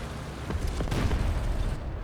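Artillery shell explosion in War Thunder, a dense, rumbling low boom lasting about two seconds with a brief crackling burst in the middle, loud and close.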